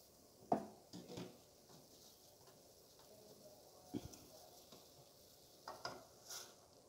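Sliced ham goes into a pan of softened corn for ginisang mais with malunggay, giving a faint, quiet sizzle broken by a few sharp stirring clinks and scrapes.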